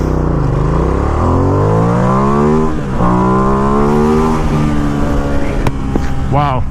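A 2017 Ducati XDiavel S motorcycle launches hard on a highway, its engine revving loud and close through rising gear sweeps with brief shift dips, over steady wind rush.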